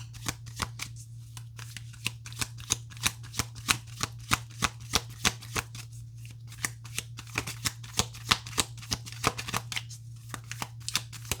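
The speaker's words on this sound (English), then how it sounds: "I'll do 3 shuffles and I'll pull some oracle cards" Oracle cards being shuffled in rapid, crisp riffling bursts, repeated steadily over several seconds over a low constant hum, close by.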